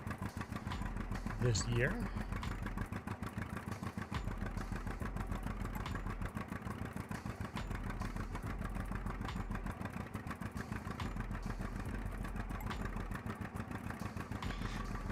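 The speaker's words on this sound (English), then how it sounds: "I love the sound of this tractor." A vintage tractor engine idles and runs with a steady, rapid low chug that stays constant throughout, while people talk over it.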